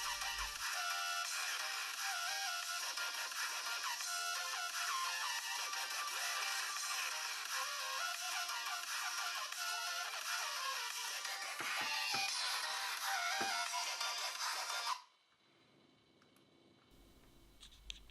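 Ringtone melody played through the small speaker of a Meizu M3 Mini phone, bright and thin with little bass, running steadily for about fifteen seconds before cutting off abruptly to near silence.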